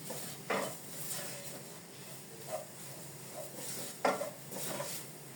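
Flour toasting in a pan with onions and tail fat: quiet scraping and stirring over a low, steady hiss, with a few louder scrapes spaced seconds apart.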